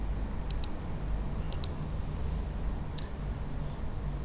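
Mouse clicks come in short sharp pairs while pressing OK in Navisworks software, a few crisp ticks spaced about a second apart over a quiet room hum.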